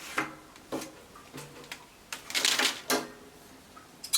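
Scissors snipping through blouse fabric while cutting out the back neckline, a run of sharp, irregular close-up clicks and crisp snips with a busier cluster of cuts near the middle.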